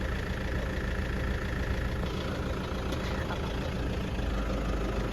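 A car engine running as the vehicle pulls away, a steady low rumble and hum that stays fairly even throughout, heard alone without talk.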